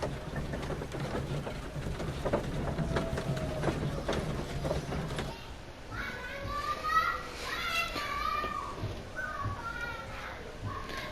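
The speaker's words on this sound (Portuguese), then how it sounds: "desculpa vocês escutarem crianças gritando, que aqui em cima tem meus vizinhos" Neighbours' children shouting and playing upstairs, heard indoors as high, excited calls and squeals that follow a stretch of muffled thumping and background noise.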